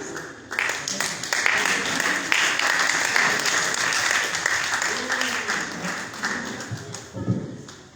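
An audience applauds at a university celebration in Liberia, a dense wash of clapping that swells in and holds steady for several seconds before tapering, with voices mixed in.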